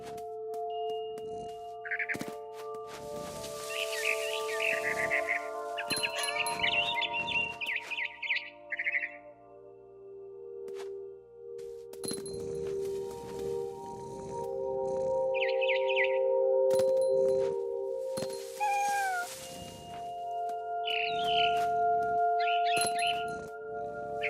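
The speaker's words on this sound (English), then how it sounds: "It was a barn swallow going back to her nest." A frightened barn swallow chirps in the video game What Remains of Edith Finch, giving short bursts of bright twittering calls in several clusters over sustained musical tones and low ambient rumble.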